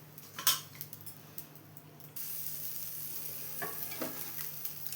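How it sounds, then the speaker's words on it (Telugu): Pearl millet flour dosa cooking on a hot pan: a few light utensil clinks first, then a steady, close sizzle sets in and carries on to the end, with no talking. "ఎర్రగా కాల్చేసుకొని ఒకటే వైపు కాల్చుకున్నాను"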